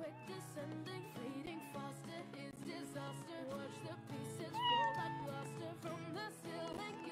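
A cat meows in the Roblox horror game Five Nights at Freddy's, mixed into steady game music that runs throughout, with no talking.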